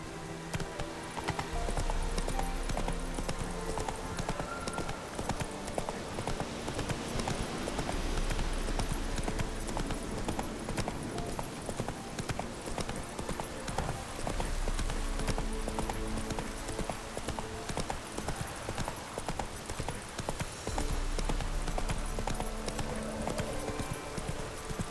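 Hoofbeats of a horse galloping in The Witcher 3: Wild Hunt make a continuous rapid clip-clop rhythm lasting the whole stretch, mixed with game music and ambient sound, no talking.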